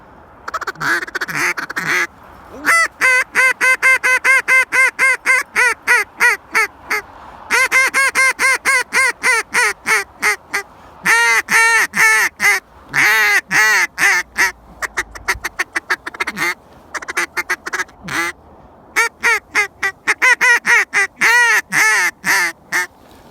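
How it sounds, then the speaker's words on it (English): A handmade duck call built from antique brass 28 gauge and 12 gauge shotgun shells blows a loud, close routine of rapid quacks in rhythmic strings, with brief pauses between runs and no voices. "This is a duck call my buddy John Spots made for me out of a couple of antique shells here."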